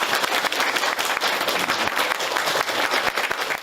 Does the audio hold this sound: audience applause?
yes